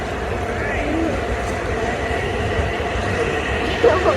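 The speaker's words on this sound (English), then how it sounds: "Oh my god, and the Babylon train!" A Babylon-branch commuter train passes through Woodside station, producing a steady, loud rolling rumble of wheels on rail with a faint squeal near the end, while people talk excitedly nearby.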